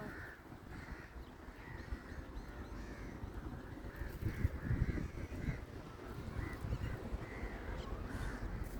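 Several crows caw repeatedly in short, overlapping bursts against a steady outdoor background hum.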